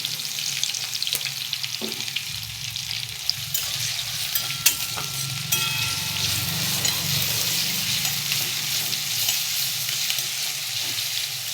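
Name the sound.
onions frying for birista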